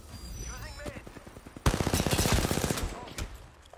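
Rapid automatic gunfire in a ranked match of a shooter video game: a dense burst of shots after a brief pause, loud and close, with players talking over it before and after.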